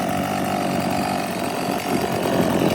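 An Echo CS 4400 chainsaw, 43.6 cc with a dull chain and an air leak, runs close and loud. The engine drone stays rough and uneven as it bogs, with no voices.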